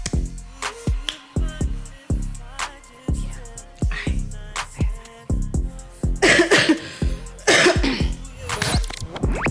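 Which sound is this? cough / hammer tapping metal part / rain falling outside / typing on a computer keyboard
cough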